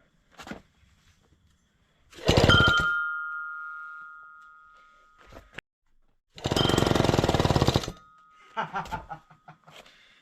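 Vintage Jacobsen two-stroke engine, abandoned for years, firing up: two loud bursts of rough running, each lasting a couple of seconds and dying away, with brief pull-start sounds between them and a high tone lingering after the first burst.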